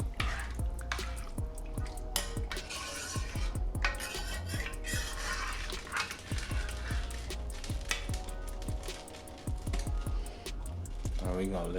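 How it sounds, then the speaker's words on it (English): A spoon stirs a pot of thick deer ragu after water has been added, making repeated wet scraping and clinking sounds against the pot. Steady kitchen noise runs underneath. "And we're gonna give this a mix."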